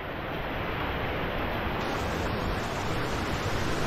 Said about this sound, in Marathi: तुम्ही बघू शकता पाण्याचा जो फ्लो आहे खूप छान आहे